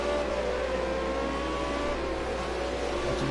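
A V8 Supercar race car engine at Long Beach roars steadily for a few seconds, a sustained loud mechanical drone with faint tonal whine, no voices.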